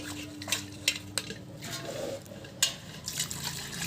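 A utensil stirs curdled milk for paneer in a pot, giving scattered close clinks and scrapes against the metal over soft liquid sloshing.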